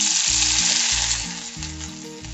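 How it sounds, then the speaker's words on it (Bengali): Dried red chillies and ginger dropped into hot oil for restaurant-style palak paneer, a loud close sizzle and crackle of frying with faint stirring, easing slightly toward the end, no voices. "2টো শুকনো লঙ্কা দিয়ে দেবো, এবার আদাটা দিয়ে দেবো"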